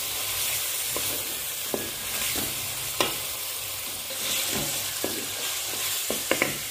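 Tomatoes fry in a pan for masoor dal with a constant bright sizzle, punctuated by several short scraping stirs of a spoon against the pan.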